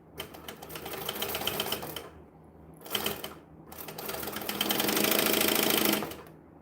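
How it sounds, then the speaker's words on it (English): A sewing machine stitches a bag together in fast bursts of rapid mechanical clatter, two short runs separated by brief pauses, then a longer, louder stretch before stopping; close and clear. "What I can do, though, is stitch the bag together."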